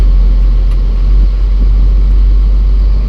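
Long-idle Cummins diesel engine running steadily at idle, a loud, close, continuous low rumble with no talk over it.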